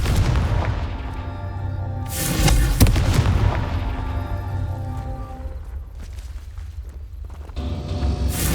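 A Confringo blasting spell explodes in Hogwarts Legacy with loud, deep booms and a sharp crack near the middle, over a sustained rumbling bed of battle noise.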